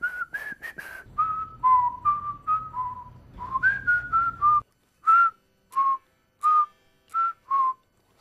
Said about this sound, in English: by the end of it, everyone's whistling the 5 notes.